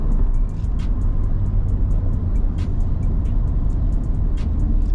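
A Chevrolet Corvette C7 cruises a canyon road, its engine and tire roar forming a steady, close, full-bodied drone, with light ticking clicks repeating over the top.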